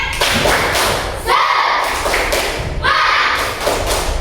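Loud rhythmic group clapping by a classroom in a steady repeated pattern, close and sustained, with voices chanting along.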